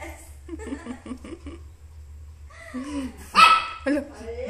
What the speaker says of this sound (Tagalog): Tumatahol na siya.